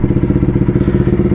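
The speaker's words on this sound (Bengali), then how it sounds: "বাইকটা একটু পোল স্টার্ট করে নিচ্ছি" A motorcycle engine runs close by with a loud, even, rapid putter, its beats steady and unchanging throughout.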